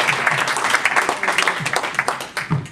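An audience at a board meeting claps for a CEO being introduced, a fairly close patter of many hands that rises and falls, with voices briefly mixed in.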